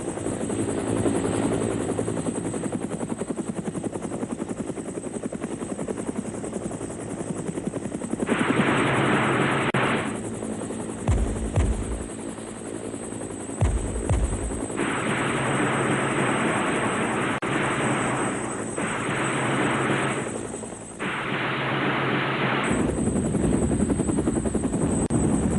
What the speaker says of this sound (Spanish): Las fuerzas anfibias soviéticas también recurren al uso de helicópteros de combate fuertemente artillados